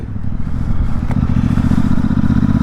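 A motorcycle ridden along the road to its MOT test, its engine holding a steady, close, loud throbbing drone with faint rattling over it.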